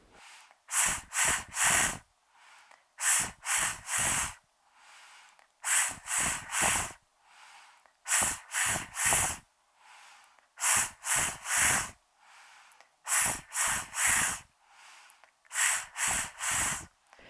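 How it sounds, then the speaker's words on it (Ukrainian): Breathing exercise for voice training: repeated cycles of a quick inhale followed by three short, sharp hissing exhales on an S sound, close and clear, with brief quiet gaps between the groups. "Тепер один вдих, три видихи літери С."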